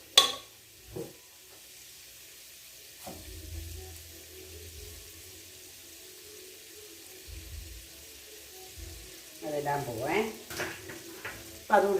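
Tomato paste sizzles faintly in a pan while butter chicken is cooked, with quiet stirring and scraping in short bursts and a voice near the end.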